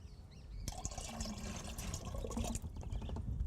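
Rose spray solution poured into a gallon of water, a steady close splashing and gurgling pour that starts abruptly and runs for a few seconds without voices.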